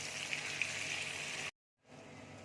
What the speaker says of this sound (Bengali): এবার আমি পনিরগুলো তেলের মধ্যে দিয়ে দিচ্ছি।